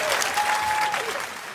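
A comedy-show audience claps briefly throughout, a dense, even patter of hands at close range with a faint tonal whine above it and no talking.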